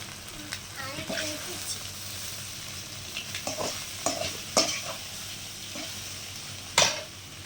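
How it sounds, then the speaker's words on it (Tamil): Egg stir-fry (muttai poriyal) stirred in a sizzling pan, with a steady fry hiss and a series of scraping and clinking spoon strokes, one sharper clank near the end. "ஒரு ஒரு நிமிஷம் அப்படி பரட்டி நல்லா பரட்டி விட்டுருங்க"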